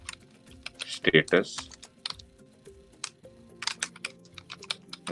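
Keys clack on a computer keyboard in quick irregular bursts, crisp and close, with someone speaking briefly over the typing.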